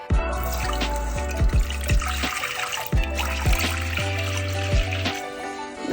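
Measured glasses of water are poured into a pot to cook rice for Malabar chicken biryani, making a series of close pours whose gurgling pitch rises as each fills, with short pauses between.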